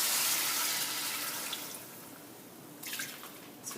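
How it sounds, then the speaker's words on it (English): Water is poured into a pot of Haitian stew fish (pwason gros sel), a steady splashing pour that fades partway through, then a few brief trickles and drips near the end. "Let's do a little bit more water."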